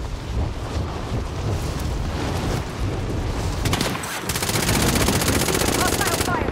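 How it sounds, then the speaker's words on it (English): Sustained automatic gunfire from Call of Duty: Modern Warfare, dense rapid bursts running throughout, growing heavier and more rattling toward the end, with a steady rumbling battlefield bed underneath. "Hostile fire. They have me sighted."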